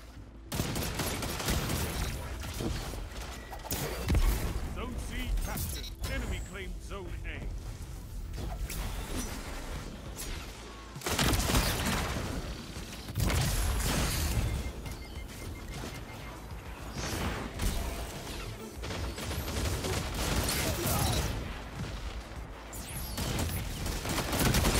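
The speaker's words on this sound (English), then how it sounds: "Let's take it into Crucible so I can show you how this scout rifle actually slays." Fang of Ryu scout rifle in a Destiny Crucible match: rapid, repeated gun reports and clattering bursts across a long stretch of busy firefight, with mechanical clanks and impacts, loud and continuous.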